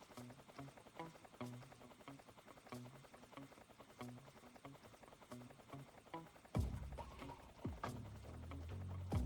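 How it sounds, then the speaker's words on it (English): A video game helicopter flies overhead with a rhythmic chopping pulse. The sound is faint and steady, then a louder, fuller burst of noise swells near the end. "that helicopter sounds so loud that you'd think it was right above me"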